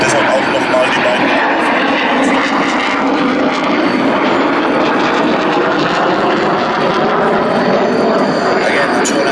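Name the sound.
Panavia Tornado jet making a low show-of-force pass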